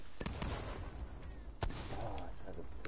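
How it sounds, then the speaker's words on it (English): Repeated in-game explosions burst out in an online shooter, with sharp loud cracks near the start and a stronger blast midway, layered over ongoing battle noise and background chatter. "explosions everywhere"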